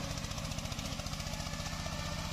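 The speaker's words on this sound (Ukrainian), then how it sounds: "такі кущі він намагається мульчувати" A homemade mulcher machine tearing into shrubs runs with a steady, loud engine drone and fast rhythmic pulsing, continuous and close throughout, with no voices.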